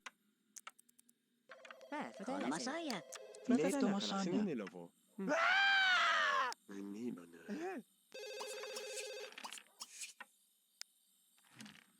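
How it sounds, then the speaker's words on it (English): Electronic phone rings from The Sims 2, several warbling tonal bursts separated by short gaps, mixed with chirpy game voices and sound effects, clear and upfront. "We've got the phone call ringing, so we're going to go and take the call."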